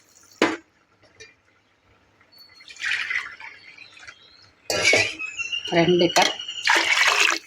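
Water is poured from a cup into washed rice for quail biryani, making short splashing bursts near the end while someone talks over it.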